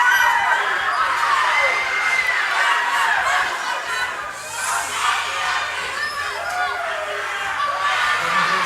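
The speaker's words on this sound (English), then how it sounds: "we're just trying to work out whether we can be heard over this extraordinary atmospheric crowd" A large, densely packed crowd roars and cheers continuously at a Samoa IBFC Universal Cup sporting event, loud and close throughout, with scattered shouts and whoops rising out of the din.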